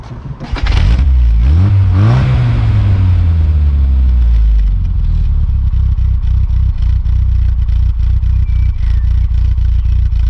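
A classic Mini Clubman engine cranks and catches, revs up with rising pitch, then settles into a steady, rumbling idle with a throaty exhaust burble.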